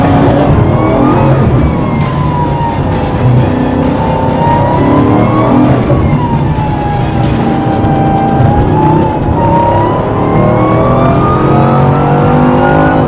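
A high-performance car at full throttle accelerates hard out of a corner on a track, its loud engine note rising steadily and sweeping up through the gears with no talk over it.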